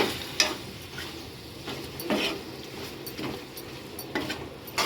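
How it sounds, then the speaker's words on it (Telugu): Prawns are stirred in a frying pan for a prawn fry biryani: a soft, even sizzle broken every second or so by short scraping strokes of the spatula. "ప్రాన్స్ వేసుకొని బాగా కలపాలి"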